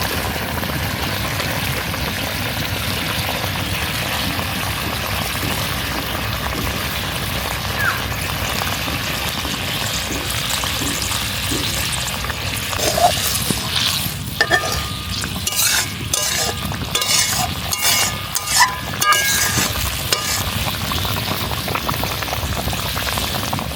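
Mustard paste goes into hilsa fish frying in a pan over a village cooking fire, giving a steady bubbling sizzle with stirring clatter and scraping growing busier toward the end.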